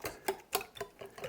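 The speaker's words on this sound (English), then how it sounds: "I'm going to whisk." A whisk beats banana bread batter for a cinnamon swirl sour cream loaf in a bowl, giving quick, light rhythmic clicks and taps against the side, close and fairly quiet.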